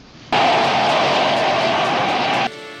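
An airplane engine roars overhead in a scene from The Greatest American Hero TV series, a loud, sustained rushing drone that cuts in abruptly, holds for about two seconds, then drops away to a lower rumble.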